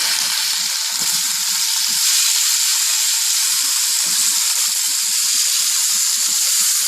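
Chopped tomatoes frying in hot oil with ginger and garlic for a Kerala chicken roast, a steady loud close sizzle throughout with occasional soft scrapes and knocks of the spoon stirring the pan.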